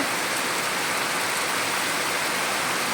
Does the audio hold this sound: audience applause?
no